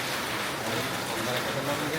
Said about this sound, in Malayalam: മഴ പെയ്യുന്നുണ്ട്. കണ്ടോ മഴ ഇങ്ങനെ പെയ്യുന്നുണ്ട്.